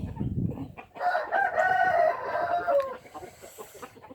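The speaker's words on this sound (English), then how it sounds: "The three big rooster, they like out in the sun, in the sea." A big rooster crows once loudly and close by in a sunny outdoor yard, a long drawn-out call after a brief low clucking start, with faint ambient noise behind.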